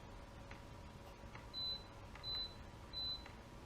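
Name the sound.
electronic beeping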